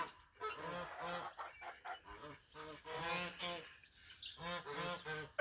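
Geese and ducks at a poultry yard with feeders let out loud, nasal honks in rapid repeated bursts, some overlapping, with short pauses between volleys, close to the listener.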